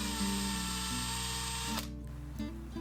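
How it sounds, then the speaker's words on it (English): A power drill whines steadily drilling holes in reclaimed timber, its pitch shifting as it bites in, then briefly cuts out and restarts for a short final burst. "Drill some new holes."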